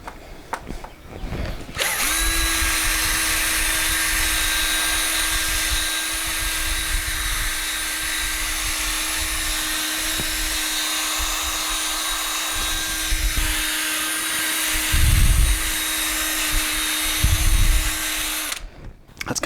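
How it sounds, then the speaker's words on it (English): A power drill fitted with a polishing pad buffs the painted body of a Flying V guitar kit, whining at a steady high pitch for a long stretch with a continuous hum, pressure shifts briefly deepening the sound near the end. "I put it on the polishing pad on the drill"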